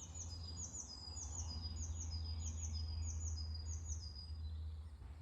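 Birds chirp outdoors in a quick repeated series of bright, high tweets, fairly close, over a steady low hum of distant road traffic.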